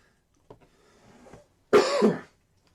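A single harsh cough bursts out close by after a little throat noise and breathing, then quiet.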